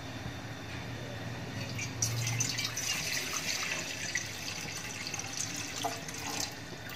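Water is poured from a jug into a kadhai on a gas stove, a steady, close splashing and gurgling that runs the whole time, with no talking.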